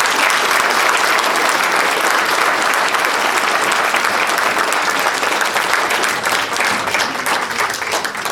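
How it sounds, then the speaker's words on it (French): A crowd at a municipal New Year's greetings event in a French commune applauds in sustained, dense clapping that holds steady and tapers slightly near the end. "On peut l'applaudir."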